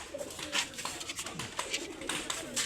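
Pigeons coo close by in a series of soft, repeated throaty calls, with faint background voices.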